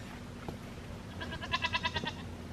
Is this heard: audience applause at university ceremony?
no